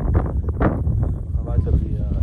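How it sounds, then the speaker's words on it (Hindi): Gusty wind buffets a phone microphone outdoors, producing a loud, rumbling low roar that rises and falls while a person talks over it. "हवा चल रही है।"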